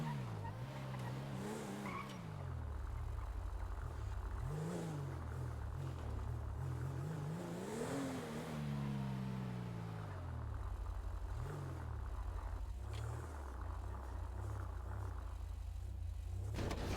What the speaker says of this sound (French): Le moteur, il tourne, non?